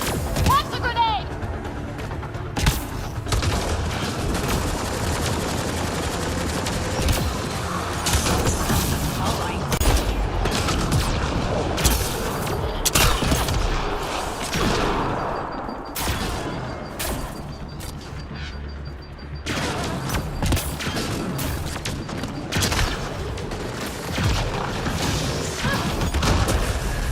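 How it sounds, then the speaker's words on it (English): Grenade blasts and sustained gunfire in the shooter game Mass Effect Andromeda, with dense bursts, booms and rattling impacts throughout and someone talking over the combat. "That's a grenade!"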